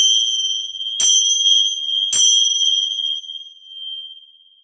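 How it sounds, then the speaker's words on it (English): A bell rings out clearly at the close of a yoga practice, struck twice about a second apart, each bright metallic tone lingering and slowly fading into silence. "Some bell."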